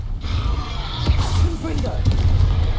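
Confringo blasting spell cast in Hogwarts Legacy, muffled blasts and bright whooshing bursts under ongoing speech, several impacts spread across a few seconds.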